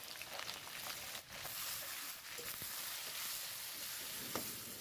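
Potatoes and eggplant frying in a pan produce a soft, even sizzle, faint and continuous, with a few light clicks and scrapes but no talking.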